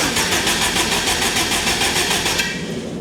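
Forged, turbocharged Honda K20 engine in a buggy catching on its first start, a loud continuous mid-pitched running tone with a fast pulsing beat that fades slightly near the end.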